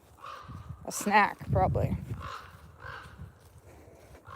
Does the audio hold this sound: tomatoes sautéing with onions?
no